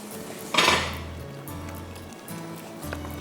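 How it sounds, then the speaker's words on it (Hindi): Whisking an almond coffee mixture in a pan: one loud metallic clatter of the whisk against the pan, then quieter scraping and stirring over a low steady hum. "हम इसको विस्क करते रहेंगे और इसको हम 1-2 मिनट के लिए कुक करेंगे"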